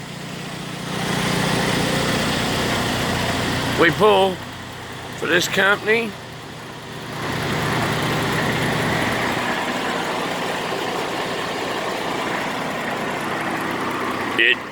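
A semi truck with a Detroit DD14 engine, 13-speed and chrome rims, idling with a steady mid-range rumble close by, while someone talks over it.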